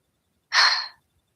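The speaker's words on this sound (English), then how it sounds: "and breathing noises too." One short breathy exhale, close and soft, half a second of airy hiss in near silence.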